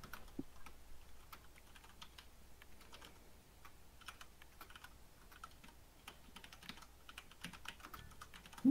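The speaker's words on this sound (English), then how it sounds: "Who the fuck is typing furiously?" Rapid typing on a mechanical computer keyboard during a coding session: a steady stream of quiet, crisp key clicks that keeps going with no pauses and no voices.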